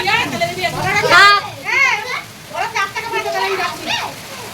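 Rain falls steadily in bad weather, a soft continuous patter underneath a child's high-pitched chatter and an adult voice talking nearby.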